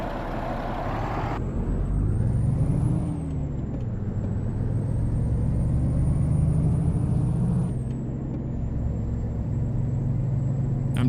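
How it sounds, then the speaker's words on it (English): An American Truck Simulator logging truck idles and pulls away at a night traffic light, its engine rumbling low and steady with a long hissing air brake release and a sustained high whine. "It's our logging truck here."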